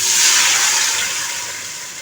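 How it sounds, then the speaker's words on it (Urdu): Water pours steadily into a cooking pot of frying mutton trotters for Chinioti mutton kunna, making a loud, continuous rushing hiss that slowly fades, with no voice over it. "ڈالتی ہوں پانی"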